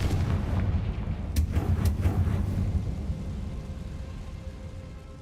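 Booming blasts from the Confringo spell in a video game, several loud explosive bursts in quick succession over a rumbling low background, with no talking.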